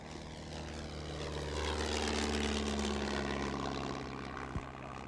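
A rare cabin version of the de Havilland Tiger Moth biplane flies past at a British airshow, its propeller engine droning steadily and swelling louder mid-pass before easing off, with no talk over it.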